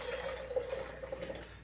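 Water is poured gently out of an orchid pot: a faint, short trickle and splash that runs for under two seconds and then tapers off, with no talking.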